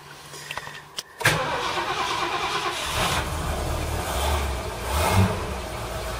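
A V8 car engine cranks and fires up on petrol, then runs with a steady, rough idle and occasional misfires, loud and close with no talking over it.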